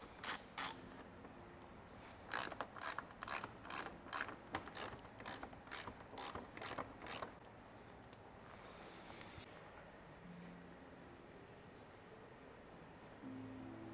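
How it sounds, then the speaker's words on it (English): Ratchet wrench with a 10mm socket backing out bolts on a 2022+ Toyota Tundra front bumper, a fast burst of clicks followed by a longer run of steady, evenly spaced ratcheting strokes, then quiet. "We're going to go ahead and remove those with a 10mm"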